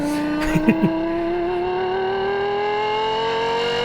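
A Lexus LFA engine revs up smoothly, its high-pitched tone climbing steadily and loud, heard close with a few quick knocks near the start.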